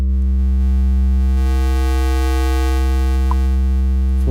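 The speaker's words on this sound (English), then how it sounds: "in the trash there's a lot more high frequency distortion going on" Heavy distortion from the Trash module of the iZotope Neutron 4 mixing suite, a dense, steady buzz of stacked harmonics with gritty high-end fizz, loud and unbroken throughout.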